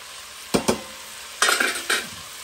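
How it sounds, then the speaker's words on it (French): Spices drop into a hot pot where chicken is cooking, giving several short bursts of sizzling and frying, sharp and close, in separate clusters with quiet gaps between them. "Je vais lâcher les épices dedans."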